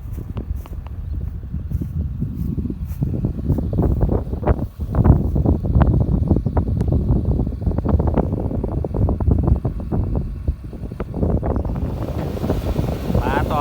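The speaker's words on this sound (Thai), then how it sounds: "ลมก็แรง" Strong wind buffets the microphone in open ground around a Makro SK140 Super X, a loud, continuous low roar with gusts, while someone speaks.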